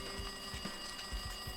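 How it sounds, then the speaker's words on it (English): A phone rings in the Danganronpa 2 video game with a fast, rattling, alarm-clock-like pulsing, quiet and continuous, without talk. "It did sound like an alarm clock."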